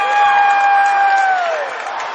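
A high school basketball crowd in a gym roars steadily with cheering and whoops after a clean blocked shot in a Brother Martin Crusaders game, a loud sustained wall of voices with no clear words that eases slightly toward the end.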